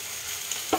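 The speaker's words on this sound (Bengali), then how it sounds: "এবার ঢাকা খুলে একটু আমি নাড়াচাড়া করব ওপর নিচ" Spiced raw banana frying in a pan, a short continuous sizzle and hiss with a soft scrape of stirring near the end, close and fairly loud with no talking.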